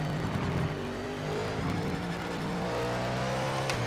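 Engine of a Mustang race car in a racing video game, a steady loud drone holding revs through a gear, with faint tire noise and no talk over it.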